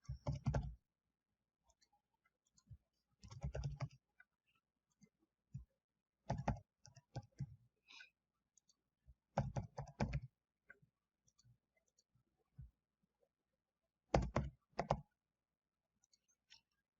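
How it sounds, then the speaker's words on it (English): Bursts of quick clicking keystrokes on a computer keyboard as names are typed, several separate clusters with quiet pauses between them, close and clear. "Now I do have to enter names."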